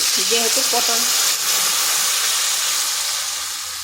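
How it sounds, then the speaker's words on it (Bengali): Water hits a hot pan of frying pointed gourd and egg, setting off a loud, steady steaming hiss that slowly fades, with a few spoken words briefly heard over it at the start. "এরপর এখানে দিয়ে দিচ্ছি জল।"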